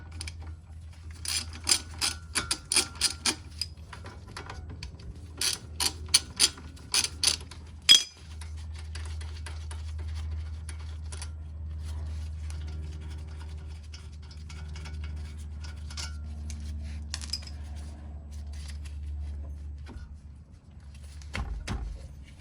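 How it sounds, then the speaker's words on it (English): Removing the 14 mm caliper bolts on a Lexus CT200H front brake: a string of sharp ratchet clicks in short bursts over the first eight seconds, then a steady low hum with faint scattered metallic ticks. "Now I'm going to remove this part of the caliper. It only has 2 bolts, 14 millimeters."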